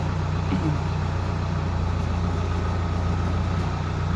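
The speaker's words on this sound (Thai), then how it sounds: "เสียงเครื่องยนต์กับ เสียงนุ่มหูดีครับ" A steady, low engine idle rumbles evenly throughout, a heavy DC60 vehicle running in place with no change in pitch or speed.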